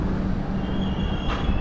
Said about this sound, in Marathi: आता हजरत निजामुद्दीन गेली गाडी.